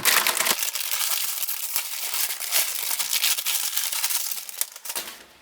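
Crinkly plastic packaging rustles and crackles up close as a bag holding clear parts from a Meng M1A2 SEP Abrams Tusk II model kit is torn and pulled open, with a few sharper snaps along the way.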